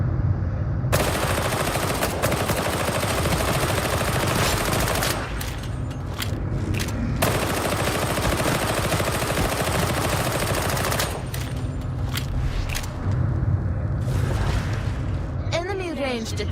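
Sustained automatic gunfire from a video game shooter rattles in long continuous bursts, with a short lull around the middle and a later pause, loud and dense throughout, alongside faint voices.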